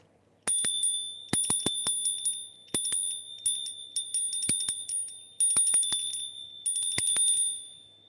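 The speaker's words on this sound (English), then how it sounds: "We got the bell of happiness." A small cracked bell rings in about seven quick bright bursts of rapid strikes, each ringing out briefly before the next, close and clear with no talking.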